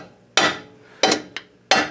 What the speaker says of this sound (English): then you just give it a light tap of a hammer